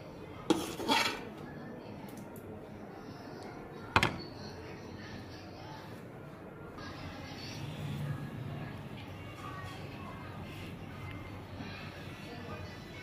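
Cooked beef liver (kaleji) being dished out of a pan, with a couple of sharp metal clinks of a spoon on the pan near the start and again midway, then soft scraping over a quiet background.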